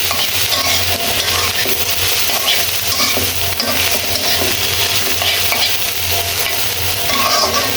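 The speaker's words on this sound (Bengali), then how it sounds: "পেঁয়াজ দিয়ে আবার নেড়ে চেড়ে দিচ্ছি।" Fried bitter gourd and chopped onions are stirred in a pan, giving a loud, constant close-up sizzle with scraping and rustling from the stirring.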